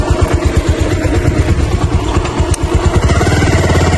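A motorcycle engine chugs loudly and close, its pulsing throb mixed with rattling clatter as it bumps along a rough, potholed road.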